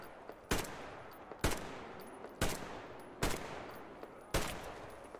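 Gunfire in the video game Metro Exodus, five sharp single shots spaced about a second apart, each with a short decaying tail, fairly quiet overall.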